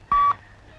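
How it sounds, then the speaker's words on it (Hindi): A single short telephone dialing tone, a clean steady beep lasting about a fifth of a second, close and clear over a quiet background. "गेस्ट हाउस को फोन करो"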